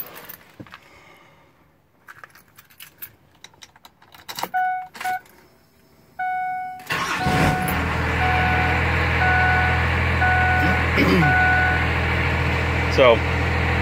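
A Cummins truck diesel engine cranks and fires up after a quiet stretch of small clicks and electronic beeps, then settles into a loud, steady idle rumble that holds to the end.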